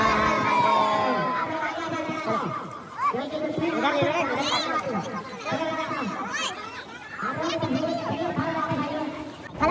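A large crowd gathered at a Chhath Puja riverside immersion, a dense wash of chatter, shouts and cheering voices that surges and dips continuously, close and loud throughout.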